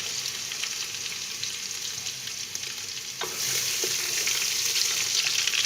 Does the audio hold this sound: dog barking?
no